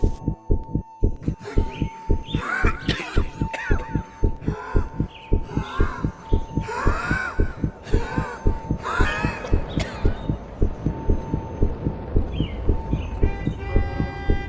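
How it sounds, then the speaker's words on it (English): A steady heartbeat pounds through a scene of the indie horror game Love, Sam, its repeated thumps close and loud over a low drone and a faint tonal hum, with brief speech-like bursts layered on top. "it's a heartbeat."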